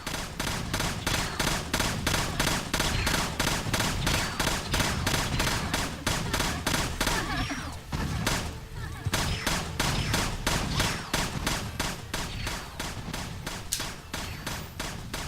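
Sustained rapid gunfire in a Tomb Raider custom level game, a loud, steady stream of evenly spaced shots that briefly stutters midway before resuming at the same pace.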